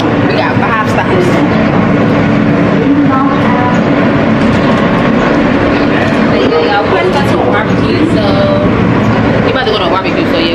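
A New York subway train in motion, its rumble and rattling wheels loud and continuous throughout, with people talking over it.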